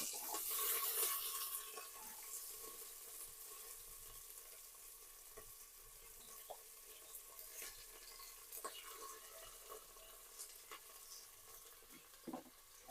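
Sambar onions (shallots) fry and sizzle in a pan for chicken biryani, a steady close crackle with occasional stirring scrapes and small clinks, and no talking.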